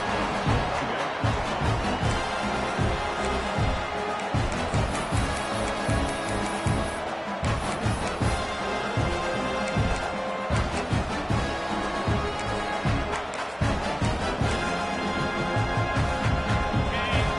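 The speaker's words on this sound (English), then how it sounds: "this big crowd doing everything possible to inspire this defense down here near the goal line" A big stadium crowd at an Iowa vs Purdue college football game roars steadily near the goal line, a dense, continuous wall of cheering with rhythmic surges and no pauses.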